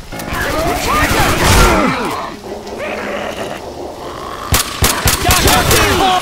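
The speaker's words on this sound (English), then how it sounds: "Where are you shooting? Stop shooting me!" Rapid gunfire bursts in the zombie shooter Left 4 Dead 2, loud and dense, layered under shouting voices and game noise, with sharper isolated shots near the end.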